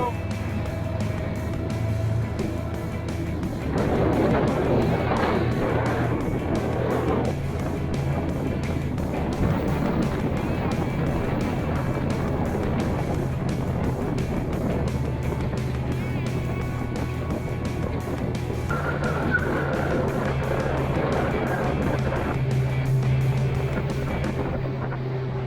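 A GROM-335 motorboat runs through waves on the Gulf of Finland in wind and frost, its steady engine drone mixing with water slap and rushing hull noise, with people speaking over it now and then.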